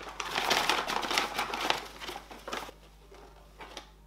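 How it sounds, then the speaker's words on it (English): A pet rustling and climbing into a Sephora paper shopping bag, with crinkly scratching and patter nearby, busier at first and then thinning to a few faint rustles, against a low steady hum and no speech. "It's Archie climbing into a Sephora bag."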